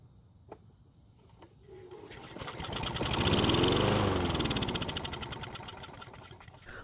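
An old Toro lawn mower engine, fueled through the carburetor throat, coughs, catches and runs for a few seconds, its revving drone swelling to a peak at mid-clip and then easing off, close and loud.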